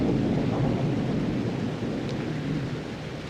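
Thunder rolls as a deep, steady rumble under rainfall and gusty wind, loud and continuous throughout with no pause.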